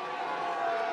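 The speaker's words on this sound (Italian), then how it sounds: "Ecco gli applausi che significano la fine della terza serie da 35 metri" Crowd applause and cheering at a crossbow shooting tournament, marking the end of the third 35-metre series; a brief, dense wash of clapping noise with no distinct claps standing out.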